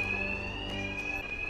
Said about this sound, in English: Will be covered by the noise of the alarm.